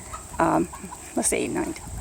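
An Orpington chicken clucks a few short times close by, with soft background noise and faint voices or rustling in between.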